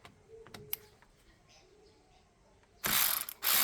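A DAGMARA cordless electric ratchet wrench loosening a 10 mm nut: faint clicks and handling at first, then two loud bursts of rapid mechanical ratcheting whir, very close.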